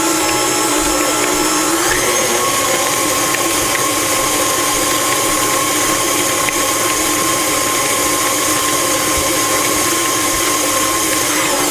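An electric mixer creams butter into a sugar and vanilla mixture for Toll House chocolate chip cookies, giving a steady, loud, grinding mechanical whir with a rattling texture that runs unbroken throughout, with no talking.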